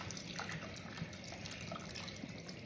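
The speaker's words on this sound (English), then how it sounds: "Now I'm going to add beef stock, and this is probably 12 to 16 ounces" Beef stock poured into a pan as a sauce for lasagna: a steady, continuous liquid splashing and trickling, fairly quiet and close, running unbroken with no talk.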